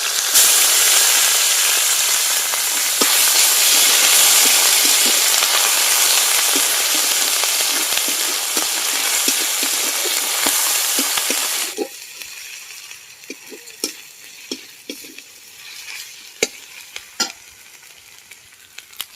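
Garlic and ginger-onion paste hit hot oil for a fish curry, giving a loud, steady sizzle that drops sharply partway through to a quieter crackle with occasional spoon scrapes.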